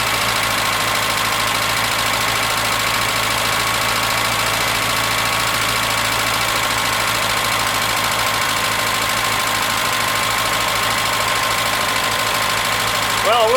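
A 1981 Datsun 210 engine running steadily near by with a slight knocking, rough texture, settling toward idle over about thirteen seconds.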